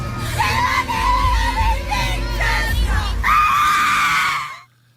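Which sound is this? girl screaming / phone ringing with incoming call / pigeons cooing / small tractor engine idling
girl screaming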